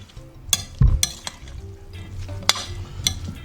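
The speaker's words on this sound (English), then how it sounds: "give it a stir" Taco filling being stirred in a hot pan, a steady low sizzle with several sharp utensil scrapes and clinks against the pan, close and moderately loud.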